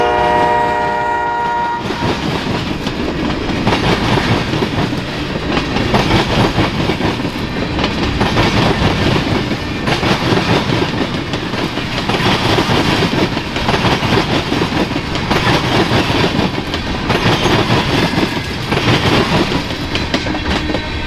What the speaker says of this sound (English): L318 ran back south at 2:31 p.m. with their SD40-2 long hood forward